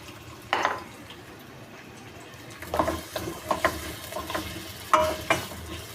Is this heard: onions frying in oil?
yes